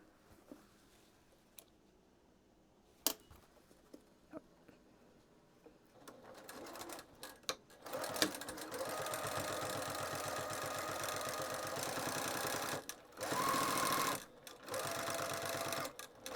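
A sewing machine stitches a 1/8 inch seam along the lining of a fabric pouch: a few quiet clicks and handling sounds, then a sustained rapid whirring run with a short pause and restart.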